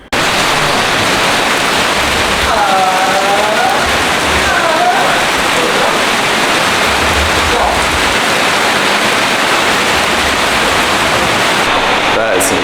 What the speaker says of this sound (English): That is some seriously heavy rain.